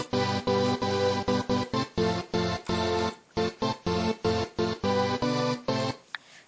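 An EDM synth melody from FL Studio, layered in octaves, plays choppy staccato chords in a tight rhythmic pattern with brief gaps. It ends on a short sustained note that fades out, and no voices are present.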